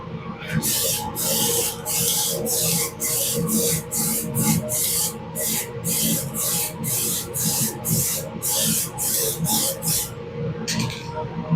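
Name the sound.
spray paint can applying a light coat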